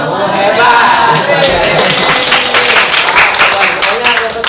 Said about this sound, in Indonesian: kasih tepuk hebat buat mereka berdua